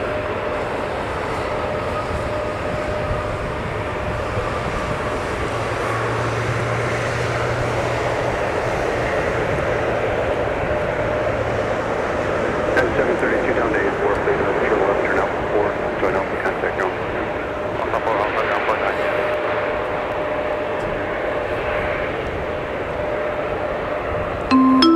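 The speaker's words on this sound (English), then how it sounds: "we have an arriving United A320-200 from Denver, Colorado in the lovely Evo Blue livery" A United Airbus A320-200 in Evo Blue livery arrives from Denver at Minneapolis–St. Paul Airport during a winter storm, a steady distant jet roar sustained throughout under a continuous talking voice.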